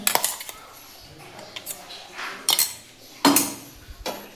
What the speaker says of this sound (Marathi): ते वाटण याच्यामध्ये मी मिक्स करून घेते